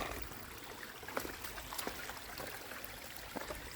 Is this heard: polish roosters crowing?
no